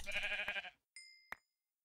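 Sheep bleating in Minecraft: a near bleat runs for most of the first second, then a brief pause and a second short bleat with a sharp click at its end, all fairly close and clear.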